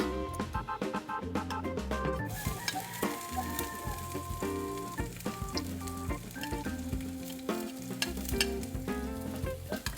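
Garlic and onion hit a hot pan for ginisang monggo, giving a steady close sizzle with scraping stirs and clinks, while background music plays throughout.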